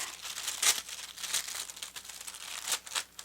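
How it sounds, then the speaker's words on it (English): Parchment paper crinkles close up in a quiet room, with repeated sharp rustling bursts and softer crackling between them, and no voices. "So I'm getting myself just a little chunk of parchment paper, about that big."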